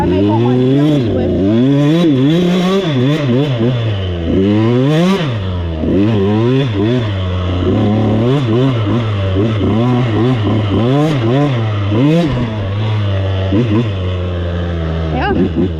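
A dirt bike rides along a dirt trail, its engine loud and close as it revs up and down in a continuous, wavering drone through the whole stretch.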